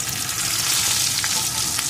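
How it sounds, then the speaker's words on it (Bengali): Homemade urad dal badi frying in hot oil left from frying tilapia, giving a steady, dense crackling sizzle that stays close and even throughout with no voices. "অল্প আছে বড়িগুলো লাল লাল করে ভেজে নেব"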